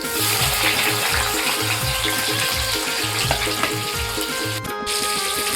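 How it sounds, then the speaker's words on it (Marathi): Chopped onion sizzles loudly in hot tempering oil with coriander, garlic and ginger, a continuous crackling fry with a rhythmic low thumping under it. "तर आता मी कांदा टाकते फोडणीमध्ये."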